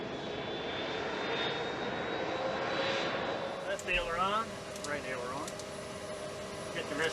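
Engines of a Lockheed C-5 Galaxy, the US Air Force's huge heavy-lift cargo aircraft, roar as a steady, loud broadband drone throughout, with a voice talking over the noise partway through.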